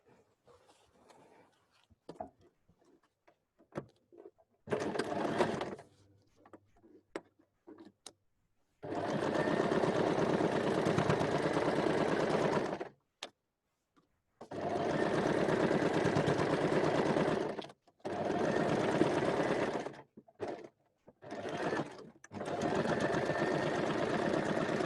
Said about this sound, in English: make sure that you sew carefully over the top of them so that the needle doesn't break any of them